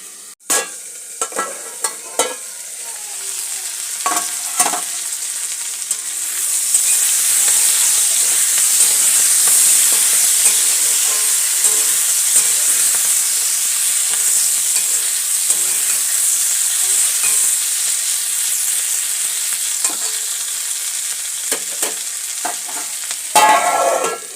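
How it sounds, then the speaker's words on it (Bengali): Neem leaves and beans frying in a pan, opening with several sharp spatula clatters and stirring, then a long steady close sizzle and hiss, with more scraping and clanks at the end; nobody speaks. "ঢাকা দিয়ে দিয়ে ভাজলে খুব তাড়াতাড়ি নরমও হয়ে যাবে আর ভাজাটা হয়ে যাবে"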